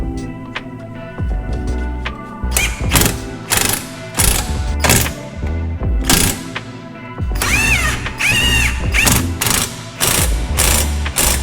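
A ratchet tightens a ball joint nut on a 2012 Subaru Forester while an Allen key holds the bolt, giving repeated loud bursts of rapid clicking separated by short pauses.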